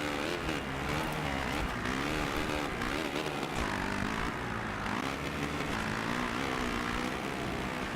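A motocross bike engine in MXGP 2 drones continuously with shifting, revving pitch as it engine-brakes, a steady buzzing mechanical whine that rises and falls, fairly quiet and alone.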